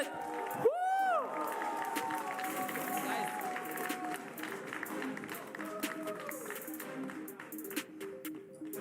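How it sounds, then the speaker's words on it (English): A crowd at a Mobile Legends esports grand final applauds and cheers steadily, with a loud whoop near the start and continuous clapping and shouts throughout. "Let's give another round of applause"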